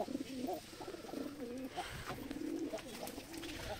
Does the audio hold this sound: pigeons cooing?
yes